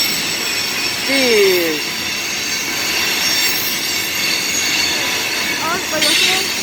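CSX Q415 freight train passing slowly through Point of Rocks station, near and loud, its wheels letting out a few high squeals over a steady rolling rumble, with a brief spoken exclamation.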